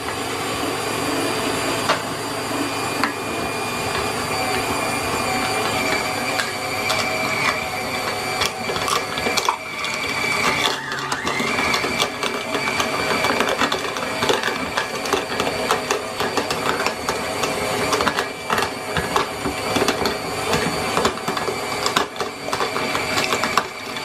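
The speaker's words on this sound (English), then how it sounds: "Here's all the meat that just went through the grinder." A stand mixer with a meat grinder attachment runs continuously, grinding raw chicken thigh meat; a steady, loud motorized whir with rattling mechanical texture that holds for the whole stretch, with no talking.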